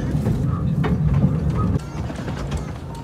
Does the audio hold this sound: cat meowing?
no